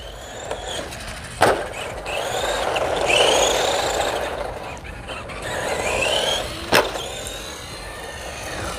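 A small electric motor in a Temu Polar Lights RC truck whines steadily, with pitch rising and falling as the truck speeds up and slows down. Two sharp knocks stand out where it lands or bumps.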